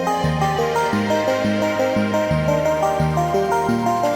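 Self-made tune plays back, a steady melodic loop with a pulsing bass line and bright melody notes over it, loud and continuous with no voices.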